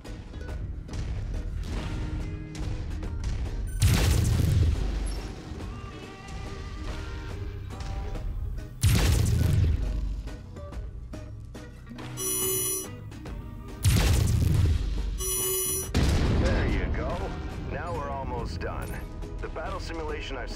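Mech weapons firing at an enemy cockpit in MechWarrior 5, heavy booming impacts repeating at intervals over sustained mechanical battle rumble, with a voice speaking during the clip.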